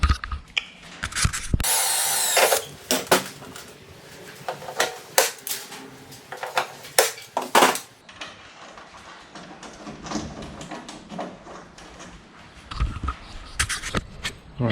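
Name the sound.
power drill drilling holes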